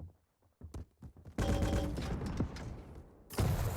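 Machine gun fire in a Quake Pro League match: bursts of rapid gunfire, with scattered sharp shots early and then a dense, sustained rattle for about two seconds, followed by another loud burst at the end.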